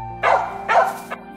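Dogs bark in a series of loud, close woofs, three sharp bursts spread over a second and a half with brief gaps between them.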